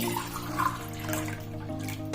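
Water poured into an idli steamer pot on a stove, a steady splashing pour running for a couple of seconds at close range, with no voices over it.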